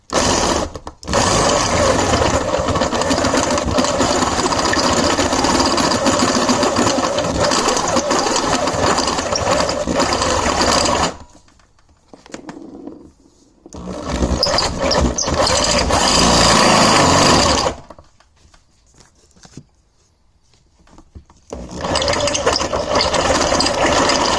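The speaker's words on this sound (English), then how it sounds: "we're going to use a 1/2-inch drill bit because I don't have a bigger one, and we're going to wallow" A power drill with a 1/2-inch bit whines loudly and steadily for long stretches while widening a bolt hole, stopping twice before starting up again, with faint rattling in the pauses.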